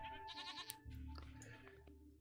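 A goat in the video game Hero's Song bleats in a couple of wavering, nasal cries, close and clear over a quiet low game hum.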